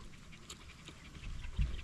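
Dogs panting outdoors on a farm during outdoor cooking, a quiet, quick rhythmic breathing close by, ending with a low soft thump.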